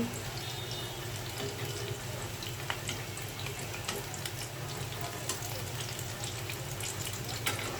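Kalmi shak (water spinach) chops being turned and fried in hot oil, giving a steady, moderate sizzle with scattered crackles and light pops throughout, with no break in the frying.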